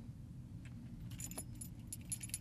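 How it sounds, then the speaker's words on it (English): Car keys for a supercharged BMW E36 M3 jangle close by in a few bright, scattered bursts over a steady low rumble, with no talk. "Okay, keys."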